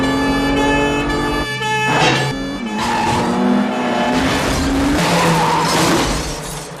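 A car races at top speed in a chase through a crowded area, tires squealing and skidding loudly and continuously, with a wailing police siren rising and falling over the engine noise.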